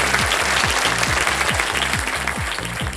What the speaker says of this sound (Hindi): ताली भी बज गई साथ।